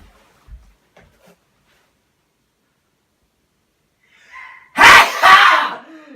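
During a sneezing contest, a single loud, explosive sneeze bursts out after several seconds of near silence and a few soft rustles, trailing into a brief breathy tail.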